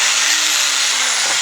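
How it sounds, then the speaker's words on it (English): A hammer drill bores into a concrete basement floor during framing work, a loud, steady, continuous whine and grind with a constant pitch that fills the whole stretch. "Light is now up, so I can actually use this hammer drill,"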